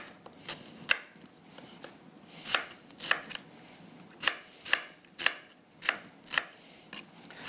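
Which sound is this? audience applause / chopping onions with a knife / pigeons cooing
chopping onions with a knife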